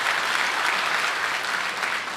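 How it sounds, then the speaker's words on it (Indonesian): A church congregation claps together after the pastor calls for applause during a sermon, a dense, even wash of clapping sustained throughout without any voices. "Tepuk tangan buat jemaat di tempat ini."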